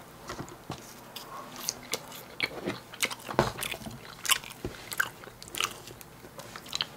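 McDonald's food being bitten and chewed up close in an eating ASMR setting, with crisp, moist crunches and squishy chewing repeating irregularly over several seconds in a quiet room.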